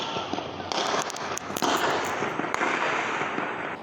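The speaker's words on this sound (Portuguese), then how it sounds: "os moradores desta área do bairro foram surpreendidos com o barulho de vários tiros" Several sharp gunshots crack out across a residential neighbourhood during a clash between rival gangs, a cluster of irregular bangs over a wash of distant background noise, moderately far away.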